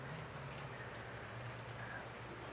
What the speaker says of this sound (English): It's like little tiny rain sprinkles coming down